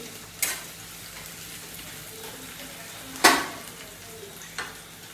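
Sliced onions fry in a pan with a soft, steady sizzle, broken by three distinct scrapes and clatters of a spatula stirring them.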